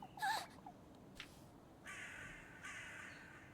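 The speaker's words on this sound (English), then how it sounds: "There's so many crows." Crows cawing in a video game, several harsh calls in a burst near the start, then fainter scattered caws and a longer hoarse call trailing off, with no talking.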